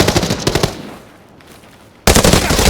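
P90 submachine gun bursts in the shooter game Arena Breakout Infinite, loud rapid automatic fire that stops for about a second and a half before another hard burst erupts at close range.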